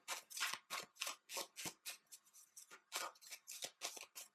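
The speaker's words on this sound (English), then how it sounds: "Let's pull some outcome cards." Tarot cards being shuffled and drawn, a rapid series of close, crisp riffling bursts repeating about every quarter second for several seconds, with no voices.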